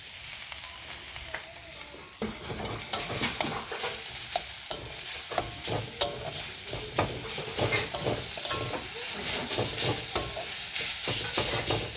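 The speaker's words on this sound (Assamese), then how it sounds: "মই ৰুকি লোৱা নাৰিকল আৰু গুড়খিনি এতিয়া অলপ ভাজি ল'ম।" Grated coconut and jaggery fry in a pan with a steady close sizzle, punctuated by repeated scraping and stirring strokes throughout, with no voices.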